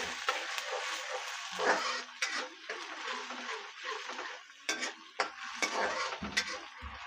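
Rice roasting in ghee in a pan is stirred with a metal utensil, giving repeated scraping and clinking against the pan over a soft sizzle.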